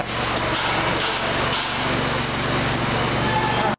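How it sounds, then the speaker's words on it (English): Specialized micropile drill rig running in a tight excavation on a foundation job at the Howard Theatre in Washington, DC: a steady, loud mechanical drone with a low hum, continuous throughout. "This is where we start using these real specialized drill rigs that can get into these tight spaces."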